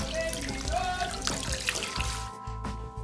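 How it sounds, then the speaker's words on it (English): Lukewarm tap water runs through hair during a final rinse in a shower, a steady splashing and trickling stream with dribbles and drips, close up, easing off near the end. "And here I am giving it a final rinse."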